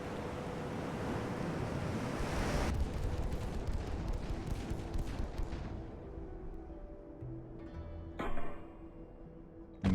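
The secondary guns of the Japanese warship Yashima fire during a 1910-era naval battle in Ultimate Admiral Dreadnoughts, a continuous rumbling barrage over sea and wind noise that thins out and ends with a louder boom.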